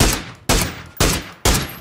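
Four heavy gunshots from a video game boom out about every half second, each a loud, sharp crack that fades before the next, with no voices over them.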